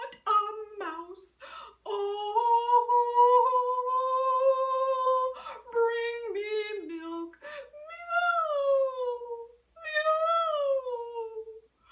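A person mimics a cat with long, drawn-out meows and wails, several sustained tones rising and falling, close to the listener.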